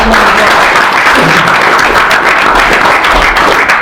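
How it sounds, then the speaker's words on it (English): Loud, dense applause from an audience at an introductory talk, continuous, close and full-sounding for the whole stretch, with no talk over it. "Round of applause."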